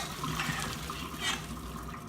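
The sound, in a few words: straining cooked noodles in a strainer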